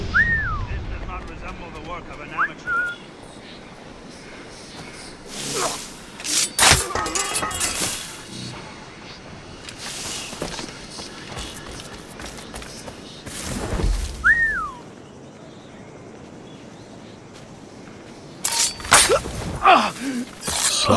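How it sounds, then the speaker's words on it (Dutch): Whistling in the video game Assassin's Creed Rogue: two short tonal whistles, one near the start and another midway, each brief and clear between louder game sounds and bursts of noise. "Even kijken, hoe fluiten we ook weer?"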